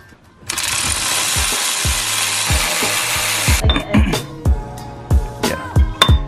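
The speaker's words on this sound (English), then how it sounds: "the four hub bolts in the back are going to be 17mm, which is what I'm taking off right now." Seventeen-millimetre rear hub bolts coming off a car: a loud, continuous power-tool whir for about three seconds, then a close series of sharp ratcheting clicks and clanks.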